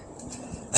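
A dog gives a single short yip or bark near the very end, preceded by faint quiet ambience.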